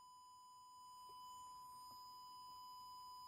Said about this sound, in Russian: А вот так звучит один килогерц.